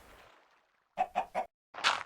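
Minecraft chicken giving a soft clucking sound, then three short clucks in quick succession and a final longer cluck, close and clear in a quiet game scene.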